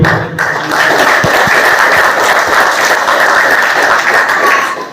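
Audience applause at a 76th Republic Day function held by an ex-servicemen's association in Kanyakumari, a loud, dense wash of clapping that runs steadily after a short gap at the start.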